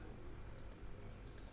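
A computer mouse gives two pairs of quick, crisp clicks, separated by about half a second, faint and close against a quiet background hum with no talking.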